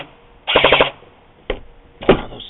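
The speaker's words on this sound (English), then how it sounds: "and now I'm trying to fire those red ones." A G&P airsoft gun fires red illuminated BBs, first a rapid automatic burst of about half a second, then two shorter bursts, close and sharp with no speech.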